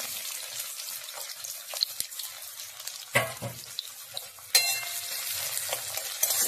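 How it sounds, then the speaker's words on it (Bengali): Chopped onions and nigella seeds fry in hot oil, a steady close sizzle with scraping stirs and a couple of sharp bursts as ingredients go into the pan. "কালো জিরে ফোড়ন দিলাম, আর পেঁয়াজ কুচিগুলো যে কেটে রেখেছিলাম সেই পেঁয়াজ কুচিগুলো দিয়ে দিলাম।"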